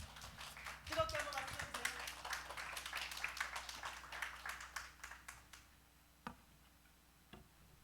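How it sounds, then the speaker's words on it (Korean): Applause in a church welcoming a missionary speaker, a dense run of quiet claps that thins out over several seconds, ending with a few scattered late claps. "박수로 환영하겠습니다."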